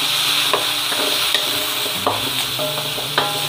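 Yellow pumpkin frying in a pan, stirred with a utensil: a steady sizzle with several sharp scraping and clinking strokes of the spatula against the pan, close and clear, no talk.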